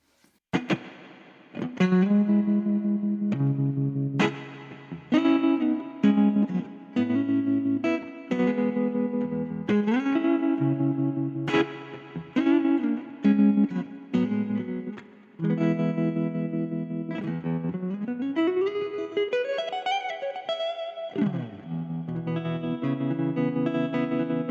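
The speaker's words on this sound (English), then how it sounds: "So we go over to the ambience and we add some spring reverb." A distorted electric guitar plays chords and bending notes through a Harley Benton Airborne Go wireless modeling amp, each phrase trailing off in a springy, washy spring reverb tail.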